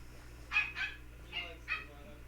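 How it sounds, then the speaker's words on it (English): A 3.5-week-old Pomsky puppy gives four small, high yips in two quick pairs, close by over a low steady hum. "that little bark would be from one of the new pups"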